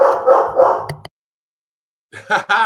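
A dog barks in a few quick bursts close by, followed by a pause of silence and then more sharp barks.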